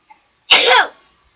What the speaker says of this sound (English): Whoa, what a sneeze.